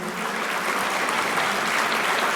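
Applause at a community awards ceremony during a world congress, a dense, even wash of clapping from a large audience, loud and sustained throughout.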